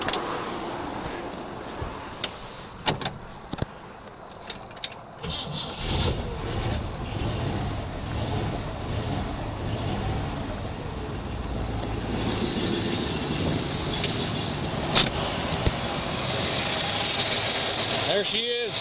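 A 1957 Cadillac Coupe DeVille with a recently rebuilt engine cranks with a few sharp clicks and knocks, then catches and settles into a steady, low, smooth idle rumble that continues close by.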